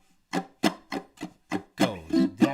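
Ukulele strumming in a lively down-up rhythm, with eight distinct, close strokes in a little over two seconds and no talking.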